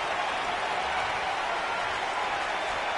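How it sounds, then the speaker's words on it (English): An arena crowd roars in the WWE 2K19 wrestling video game during a handicap match, a steady, dense wash of cheering and applause with no talk over it. "Listen to this crowd."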